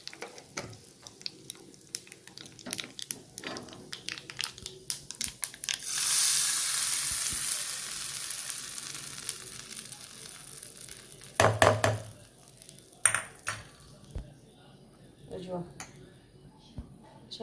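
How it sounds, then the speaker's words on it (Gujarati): Dried red chillies and asafoetida hit hot oil with a sudden loud sizzle that surges then slowly fades, set among clattering utensil knocks and scraping, while someone talks over parts of it. "બે ફિક્કા લાલ મરચાં થોડીક એવી હિંગ નાખીશું"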